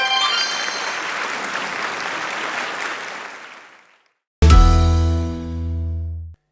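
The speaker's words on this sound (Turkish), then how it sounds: "Alkışlar Sarı Masa'ya gelsin." An audience claps steadily on a TV quiz show; the applause fades out over about four seconds, then after a short silence a loud, ringing electronic tone sounds and slowly decays.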